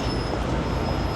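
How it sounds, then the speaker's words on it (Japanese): A train runs in Seoul, a loud, dense rumble of wheels and carriage noise filling the whole short stretch without pause. "電車に乗って行きますよ。"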